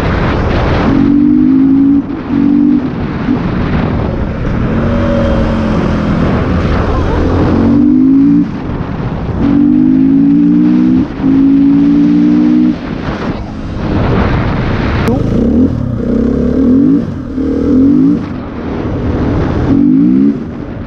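A 2014 KTM 450 EXC enduro motorcycle's single-cylinder engine revs and accelerates repeatedly up close, rising and falling in pitch over loud wind buffeting.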